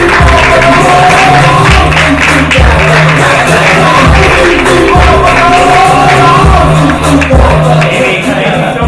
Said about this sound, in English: Big round of applause for Amy Young.